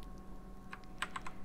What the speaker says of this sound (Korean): 콕스 CY104 게이트론 기계식 키보드